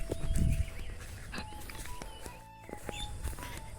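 Footsteps crossing an open field, soft irregular steps with a denser scuffing burst near the start, while birds call faintly in the background.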